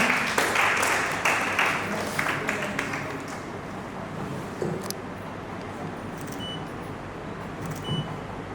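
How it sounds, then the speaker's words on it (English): Audience applause at a panel discussion on angel investing and startups, loud clapping that swells at the start then thins and fades over several seconds, with a few scattered claps. "So thoda sa round of applause to banta hai, right?"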